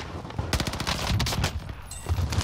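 Rapid automatic gunfire firing incendiary fire ammo in Call of Duty on Rebirth Island, a dense burst of close, loud shots in quick succession with brief gaps, no talking.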